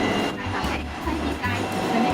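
A Hong Kong tram rumbles and clatters along its tracks at night, with low rhythmic rolling and creaking heard up close from inside the car.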